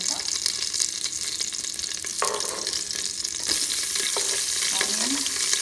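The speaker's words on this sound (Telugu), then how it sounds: "onion and green chilli add చేసుకున్నానండి" Onion and green chilli sizzling steadily in a hot pot of oil, loud and close, with occasional stirring scrapes and a slight rise in intensity toward the end.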